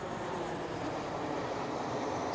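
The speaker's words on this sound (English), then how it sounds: "Plane!" Airplane passing overhead near a car being reviewed, close to an airport flight path: a steady, loud broadband jet roar that fills the whole moment with no talk over it.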